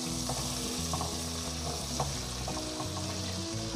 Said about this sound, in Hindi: मसाला भून गया इसका